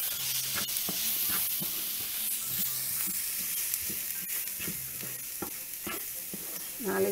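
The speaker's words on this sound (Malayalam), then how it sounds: "സവാള ഒന്ന് നന്നായിട്ട് വഴറ്റി വരുമ്പോൾ അതിലേക്ക് എടുത്തു വെച്ച നാളികേരം ഇടുക" Coconut and onion fry in a pan for cabbage thoran, a soft steady sizzle broken by repeated scraping and stirring knocks of a spoon against the pan, fairly quiet and close, with no talking.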